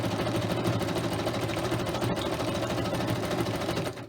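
A sewing machine with a regular size 90 needle, stitch length set to 3, runs steadily through paper, its rapid mechanical stitching loud and continuous throughout with no talk.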